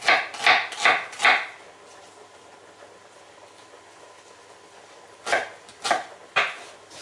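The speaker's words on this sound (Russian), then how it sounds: "Порежем лук. Лук можно резать крупно, так как мы его все равно будем перемалывать." A knife chops onion coarsely on a board for a beef liver roll: four quick, crisp chops, a quiet pause, then three more close, distinct cuts.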